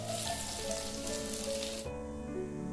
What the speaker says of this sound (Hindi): अब हम कढ़ाई में ऑयल लेंगे और ऑयल गर्म होने के बाद उसमें हम प्याज डालेंगे।